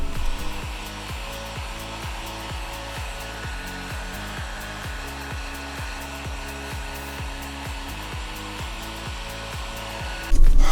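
A heat gun blows steadily while warming a vinyl tail light decal on a Dodge Charger, giving a loud continuous whirring roar with rhythmic flutter, then a sudden louder burst near the end.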